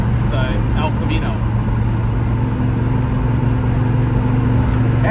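A 1968 Chevrolet El Camino with a 396 engine runs at a steady cruise, its low engine drone and road noise heard from inside the cab under continuous talk.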